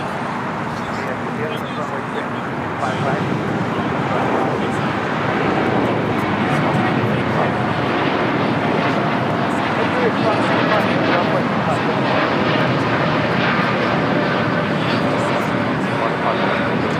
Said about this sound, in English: That is American Airlines 469 taking off to Chicago O'Hare